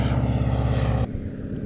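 A floatplane's propeller engine drones loud and steady for about a second, then drops abruptly to a quieter rumble.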